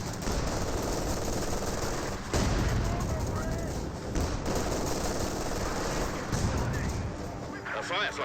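Dense bursts of .50 cal machine gun fire in the Company of Heroes 2 battle game, joined by other gunfire and blasts, roll on steadily under a commentator's continuous talk.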